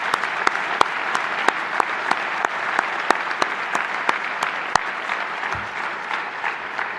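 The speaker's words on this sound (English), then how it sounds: "Let's give these young people a round of applause." An audience applauds new students at a college matriculation ceremony, with sustained clapping from a large crowd in a hall and a few sharp nearby claps standing out.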